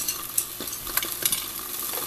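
Choi sum is stirred in a hot pan with vegetarian XO sauce, giving a sizzling fry broken by several quick scraping and clacking strokes of the utensil against the pan.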